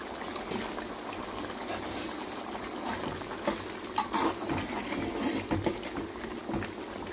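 Bitter gourd curry gravy boiling in a pan, a steady bubbling simmer with small pops and a few louder splutters, close and continuous.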